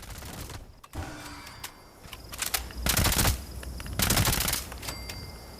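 Gunfire in a video game as rounds are fired under VATS targeting, heard as loud bursts of shots in two sustained volleys around the middle and end, with scattered mechanical clicks between them.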